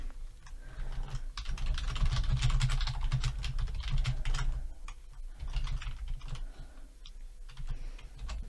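Rapid, steady clatter of fingers typing on a computer keyboard while entering text in a Canva Christmas card template. The keystrokes are close and continuous, with brief pauses throughout and no talking.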